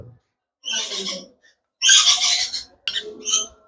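Young pineapple conure parrots give bursts of harsh, raspy squawking calls, three close clustered bouts separated by short silences, loud and near with no talk.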